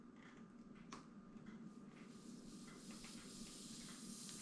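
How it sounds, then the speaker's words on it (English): Air hisses steadily from the valve of a tubeless fat bike tire as it is pushed in, a continuous close, moderately quiet rush that keeps going without a break. "And you can simply push the valve in"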